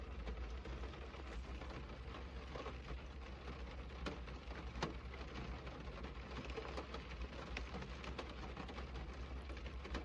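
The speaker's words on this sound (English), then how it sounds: "Can you hear the wonderful rain?" Rain falling on a car while sitting inside it, a faint, steady patter and hiss with scattered soft drops throughout, no voices.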